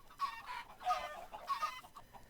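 Chickens cluck in a steady overlapping chorus in Minecraft's Sky Factory 3 modpack, several game birds sounding at once with no talk, moderately loud and continuous.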